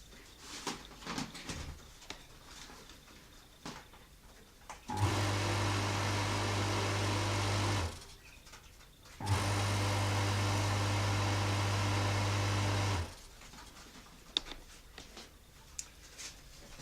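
An ALKO HW-3500 pumping station runs after repair in two steady motor bursts of about three and four seconds, a low constant hum with broadband whine, separated by a short pause amid quiet room noise.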